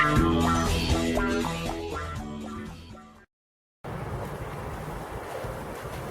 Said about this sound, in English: Well, it's a little bit windy, as you can see.